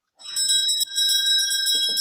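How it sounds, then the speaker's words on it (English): A single bright bell rings out loud and close to mark drinks time, with a sustained metallic ring and a brief re-strike partway through. "there's our good old bell, because it's definitely 6 somewhere"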